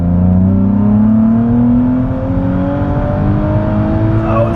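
A new Nissan Z accelerating hard in third gear, engine note climbing steadily and loudly as revs rise over several seconds, heard close from inside the car.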